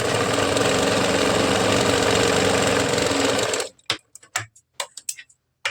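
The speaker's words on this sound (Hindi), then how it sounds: "दोनों जॉइंट को अंदर की तरफ रखना है और सिलाई चलाना है। इसकी भी सिलाई पक्की कर लेनी है।" Sewing machine stitching the joints of a katori blouse, running in a fast, steady mechanical whir for about three and a half seconds before stopping, followed by a few scattered clicks and handling taps.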